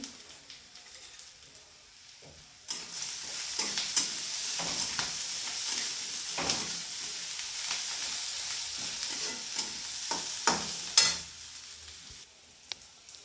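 Chopped onion frying in oil with turmeric, salt and peanuts in a village kitchen, a bright steady sizzle that starts abruptly, with scraping stirs and clinks against the pan, close and continuous until it cuts off near the end.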